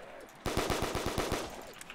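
Rapid automatic gunfire in Black Ops zombies mode, a quick burst of about nine evenly spaced shots that empties a magazine, loud and close, ending abruptly and followed by a faint tail.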